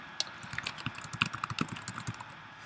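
Quick typing on a computer keyboard, a rapid run of light clicking keystrokes, close and fairly quiet with no talk.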